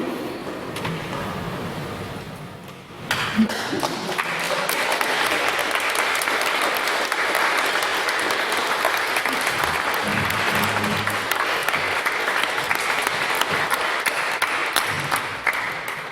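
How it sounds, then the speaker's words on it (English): Applause after a maiden speech at a debate on defunding the police: after a few seconds of quiet room tone, a crowd breaks into steady, sustained clapping that continues evenly to the end. "Can we get another round of applause for what was a fantastic maiden speech?"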